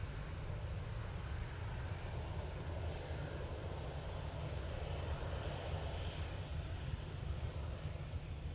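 TUI airliner bound for Lanzarote taxiing through a wide turn onto runway 23 left at Manchester Airport, giving a continuous low engine rumble with steady broadband roar and no voices.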